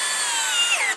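A DeWalt cordless screwdriver drives a screw in one continuous high whine lasting about a second, close and loud, then spins down abruptly to silence.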